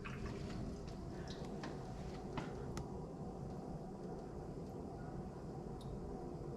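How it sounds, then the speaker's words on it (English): Water rushing into a hybrid water heater after its supply valve is opened, a steady low broadband hiss and rumble with faint drips and clicks, continuous and fairly quiet throughout. "We can hear the water filling the water heater."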